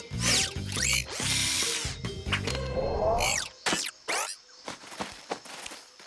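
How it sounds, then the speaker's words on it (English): A cartoon power screwdriver whirs in several quick bursts, mixed with clanks, squeaks and short rattling tool noises as a jungle gym is taken apart. "Screwdriver!"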